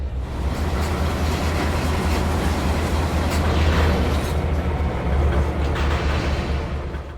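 Railroad cars rumble and clank while being coupled onto a train, a continuous low, heavy rolling drone with faint metallic knocks, steady and fairly loud with no voices.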